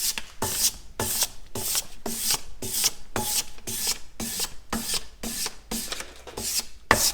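An inshave blade edge being rubbed back and forth on 800 grit wet and dry sandpaper backed with leather, a steady rhythmic rasping scrub of about a dozen strokes, close and without talk.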